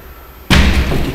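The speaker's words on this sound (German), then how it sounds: "geht die Tür schneller zu." A door fitted with a GEZE TS 2000 overhead door closer swings shut on a faster speed setting and ends in one sudden, loud, close slam that rings on briefly, with no voices.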